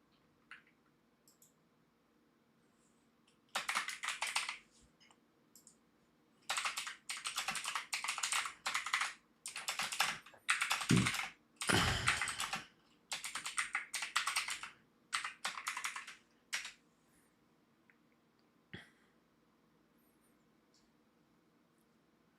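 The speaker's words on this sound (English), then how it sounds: "As I'm just over here clickety clacking away." Someone types on a computer keyboard in quiet, close-up bursts of rapid clacking keys separated by short pauses, with a few isolated taps near the end.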